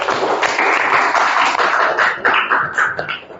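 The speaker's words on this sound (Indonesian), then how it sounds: "Tepuk tangan." Students clapping in a classroom after a group presentation, a dense, loud round of applause with some sharper individual claps standing out as it tapers.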